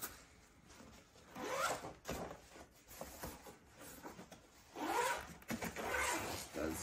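The YKK-type zipper on the carry case of a 160W EcoFlow solar panel is pulled around in a few long, scratchy runs with short pauses between them, close up and with no voices.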